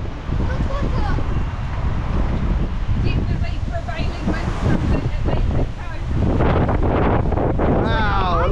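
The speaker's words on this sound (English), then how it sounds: "It's super windy today." Strong wind outdoors in Rabat, Morocco, roars and buffets the microphone in a constant loud rush, with people talking underneath it.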